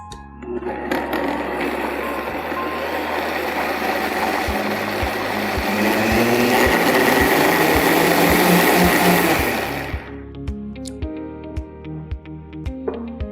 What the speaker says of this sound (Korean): 블렌더 뚜껑을 덮어주신 다음 블렌더를 이용해서 갈아주도록 하겠습니다